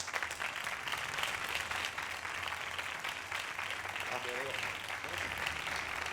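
Audience applause at a Spanish talk on brain damage, steady dense clapping throughout at moderate distance, with a few faint voices underneath.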